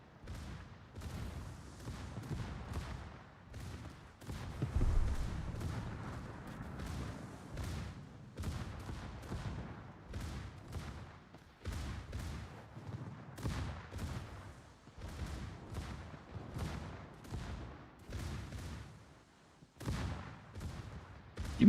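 Warship artillery in World of Warships, with repeated heavy gun salvos and booming impacts in an irregular rhythm, loud and close, with no talking.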